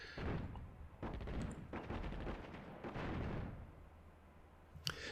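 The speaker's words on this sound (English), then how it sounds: "we're going to shoot over the site, open sights at the tanks." Gunfire at tanks in the video game Attack at Dawn: North Africa comes as a dense rumbling barrage of shots and blasts, loud and continuous, ending in a sharp pop near the end.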